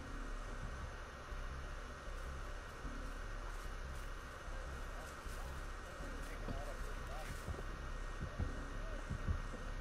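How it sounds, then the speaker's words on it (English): Heartbeat warning sound from the Roblox Piggy video game, a steady low throbbing pulse under a constant hum, with players talking over it. "I hear the heartbeat."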